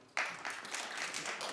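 A studio audience on a daytime talk show breaks into sudden clapping, a brief scattered burst of many hands, faint and a little distant, with no talk over it.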